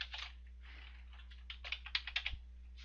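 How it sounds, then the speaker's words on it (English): Clattering keystrokes on a computer keyboard typing a legal case search, quick irregular bursts of clicks, close and fairly quiet, with no voices. "typing in Roe v. Wade by party name"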